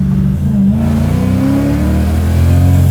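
A supercharged V8 swapped into a BMW E30 revs hard and climbs quickly through the RPMs, a loud, continuous close-up engine roar with a rising pitch.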